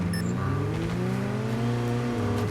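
A car engine in the mobile battle royale game Call of Duty Mobile drones loudly and steadily, shifting in pitch as the vehicle accelerates.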